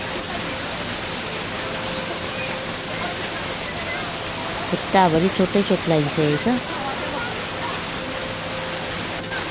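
Chitrey Waterfall roars as a steady, dense wash of falling water that fills the whole stretch, with a person's voice briefly speaking over it midway.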